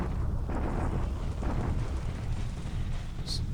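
Artillery bombardment in the War in the Pacific strategy game at San Fernando, heard as a continuous low rumbling roar of distant blasts merging into one another, steady and dull, with no voice over it.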